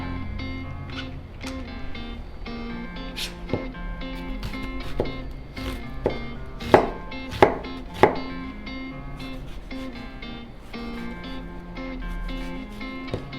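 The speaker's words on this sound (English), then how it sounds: "Just want to chop it in cubes." Knife chopping squash into small cubes on a cutting board, a steady run of close, crisp taps with a few louder strikes in the middle.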